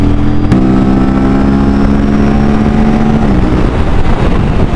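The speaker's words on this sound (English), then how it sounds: "This is a stock motorcycle." A stock Aprilia RS457 motorcycle with a DNA air filter drones steadily at speed, loud and close, with a slight pitch shift as the rider shifts or eases off.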